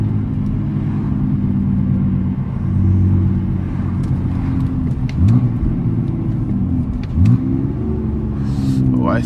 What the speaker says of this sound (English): I still got the skill to do this rev matching.